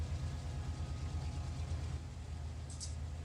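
A Union Pacific diesel locomotive engine in the Run8 train simulator video game drones in a steady, low, muffled rumble, continuous and fairly faint, with no speech.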